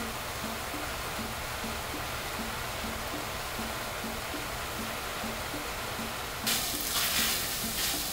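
Salted nopales cactus paddles cook down in a pan in their own released juice, giving a steady sizzle with rhythmic scraping stirs and a louder burst of frying near the end.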